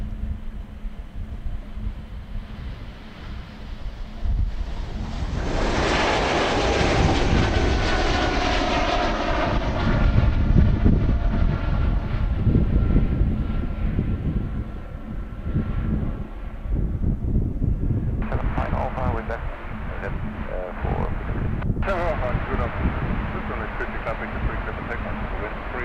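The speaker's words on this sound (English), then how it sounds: "United Airlines standing by now, taxiing to the start of the runway." A United Airlines airliner taxis toward the runway at Amsterdam Airport, its jet engines a loud, sustained roar that swells and stays heavy with some wind noise across the whole stretch.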